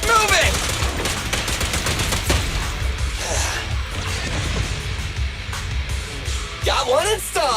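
Rapid gunfire bursts in the video game Zenless Zone Zero crackle loudly over game sound effects and music, dense and continuous with sharp sweeping effects near the end.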